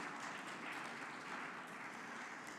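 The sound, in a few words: audience applauding the SVL team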